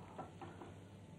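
Butter foaming and sizzling in a pan as it heats for toasting breadcrumbs, a faint steady crackle running without pause and with no voices.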